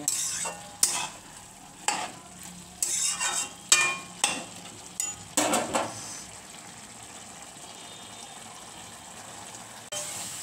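Spinach chorchori frying in a pan on high heat, a hissing sizzle with repeated scraping stirs for several seconds before the stirring stops and a quieter steady sizzle remains.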